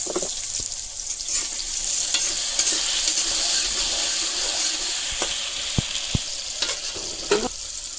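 Potatoes with turmeric and salt fry in hot oil in a pan, a steady broadband sizzle running throughout with occasional sharp scrapes and knocks as they are stirred; no one speaks.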